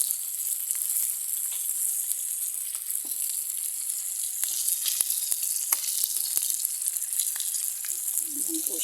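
Food fries in oil in a non-stick pan with a steady, close, bright sizzle and occasional crackles and pops; faint voices come in near the end.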